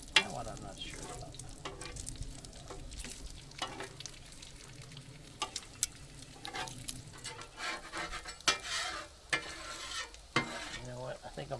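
Bacon fries in a pan at a Flagstaff, Arizona campground, a steady low sizzle with scraping and tapping from turning the strips, close and moderately quiet.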